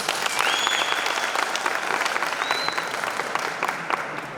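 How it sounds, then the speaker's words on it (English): An audience at a dialogue event applauds a group coming to the front, steady dense clapping throughout, moderately near, with a couple of whistles cutting through the crowd. "Give them a round of applause."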